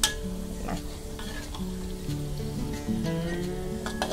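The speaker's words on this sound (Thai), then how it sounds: "มันจะมีเสียงฟู่ฟ่ออยู่อย่างเงี้ยนะคะถ้าเกิดมีเสียงอย่างเงี้ยก็คือเขายังรีดน้ำมันอยู่" Pork fat rendering into lard in a pan gives off a continuous crackling sizzle and fizz, steady and moderately close, with faint tonal sounds in the background.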